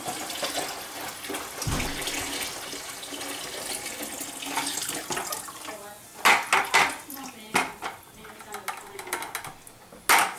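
Sanitizer liquid sloshing and swirling inside a home winemaking bucket, watery splashes and plastic knocks growing louder toward the end, with occasional clatter and no clear speech.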